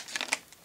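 Hard plastic packaging around JVC Xtreme Xplosives headphones crinkles and crackles as it is cut, giving a few quick, faint bursts of rustling over about half a second.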